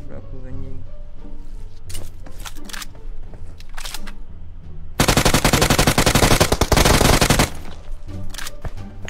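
Rapid automatic gunfire from a team deathmatch shooter game rattles loudly in a dense burst of about two and a half seconds, with scattered shots and a player's chatter around it.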